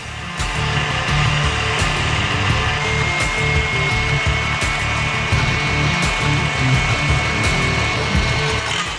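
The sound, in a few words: high-speed stand mixer whisking egg whites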